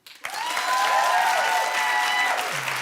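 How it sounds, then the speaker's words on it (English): A studio audience claps loudly after a sharp onset, a dense burst of applause lasting a couple of seconds before tapering off. "Clap if you're with me"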